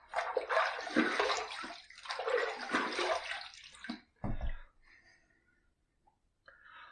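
Running water splashes loudly as an aluminum razor is rinsed after a second shaving pass, in two long bursts followed by a brief splash and fading drips.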